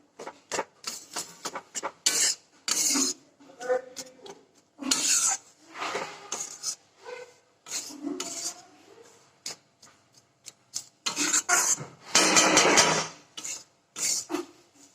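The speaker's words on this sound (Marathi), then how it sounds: "आता हे काय चांगलं भाजून घेते तेलामध्ये" Jowar flour roasting in plenty of oil in a pan, stirred with rough rhythmic scraping and rubbing bursts separated by short pauses, close and fairly loud, no talk.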